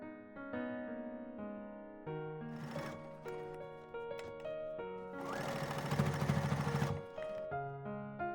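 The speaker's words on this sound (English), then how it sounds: "Sew the outer shell piece to the bottom canvas piece, right sides together." A sewing machine stitches a canvas bag's outer shell piece to its canvas bottom piece, a dense mechanical whir running for about two seconds over steady background music.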